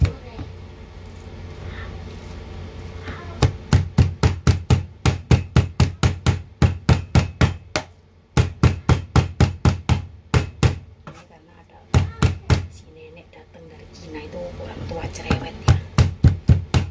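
Pork is chopped by hand with a cleaver on a board, fast rhythmic thuds in long runs broken by short pauses, loud and close.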